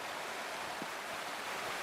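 A waterfall in the video game Wuthering Waves gives off a steady, even rush of falling water that continues alone without a break.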